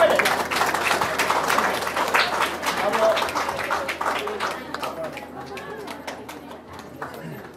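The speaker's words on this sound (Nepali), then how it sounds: "हामी सबै ताली बजाउँछौँ" Wedding guests at a Nepali Christian ceremony in Nepal applaud together, a dense patter of clapping that is loudest at the start and slowly thins out, with voices murmuring underneath.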